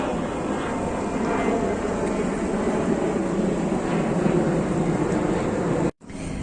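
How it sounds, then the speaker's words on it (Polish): A fixed-wing airplane flies overhead in a small town, a steady loud broadband engine roar holding for about six seconds before a brief dropout at the end. "O, no, samolot."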